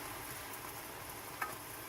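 Beans tipped into a pot of cooked tomatoes set up a steady, even sizzle with no pause, and one brief scrape or clink sounds partway through.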